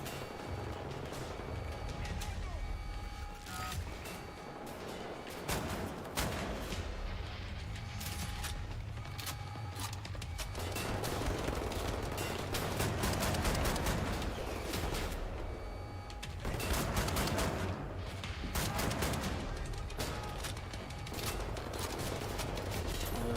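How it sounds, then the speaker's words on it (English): Scatter gun fire in Wolfenstein: The New Order, a dense fusillade of repeated blasts and mechanical clatter running throughout, loud and continuous with brief lulls, with no talk over it. "these scatter guns are pretty damn weird if you ask me"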